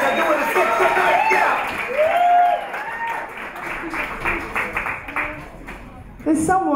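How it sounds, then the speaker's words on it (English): A live comedy-show audience claps and cheers in a broad, dense burst that swells and then tapers off. A host talks loudly over the applause and then keeps speaking as it fades. "Alrighty, everybody, get ready to clap."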